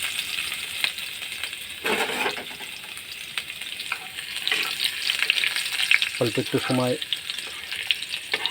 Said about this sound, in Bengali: আমি প্রথমে কটা গোটা জিরা দিয়ে দিলাম, তারপরে রসুন কুচি দিয়ে দিলাম